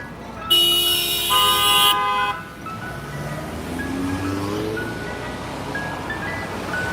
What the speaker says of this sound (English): He honking the horn at me